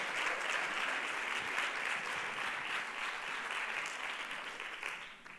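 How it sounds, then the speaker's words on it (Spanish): Audience applause welcoming a speaker at a science talk, a steady wash of many hands clapping from a seated crowd, sustained for several seconds and gently fading at the end. "Un aplauso muy fuerte para Marta."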